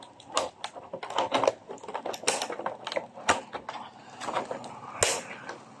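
Close crinkling and a rapid run of crisp snips and clicks as plastic packaging is cut open on a Playmates Toys Godzilla x Kong: The New Empire Godzilla vs. Shimo two-pack, with no talking.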